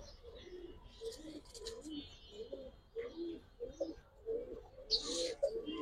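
Giribaz pigeons coo in a soft, repeated low rhythm, several birds close by and moderately loud, with a brief higher chirp near the end and no talk.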